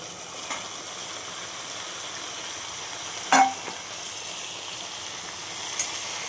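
Potatoes and mixed vegetables stir-fry in a pan with a soft, steady sizzle throughout, broken by a couple of brief clinks and scrapes from the stirring utensil.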